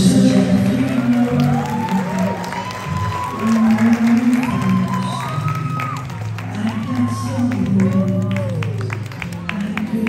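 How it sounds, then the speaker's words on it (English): Wedding guests applauding and cheering, a sustained crowd of clapping with whoops and shouts, and a host's voice talking over the noise throughout. "Round of applause."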